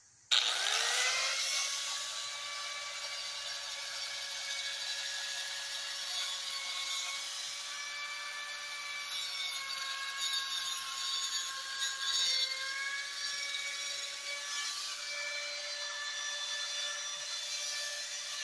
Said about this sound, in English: my favorite tool you'll come to find out once we start crafting is angle grinder